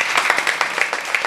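Applause at a Marathi kirtan gathering, a burst of close, sharp claps in a quick uneven rhythm that carries through the whole short stretch.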